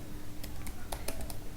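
A handful of quick, faint keystrokes on a computer keyboard while typing a project description, soft irregular clicks over a low background hum.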